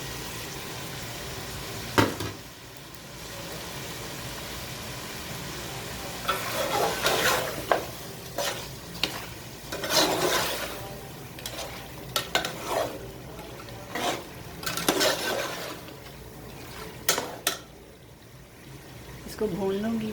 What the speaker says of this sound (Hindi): इसको भून लूँगी 5 से 7 मिनट।